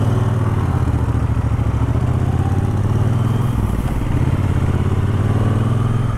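A Triumph Bobber motorcycle engine runs steadily and loudly throughout, with a deep, even low throb and a constant rumble and no talk over it.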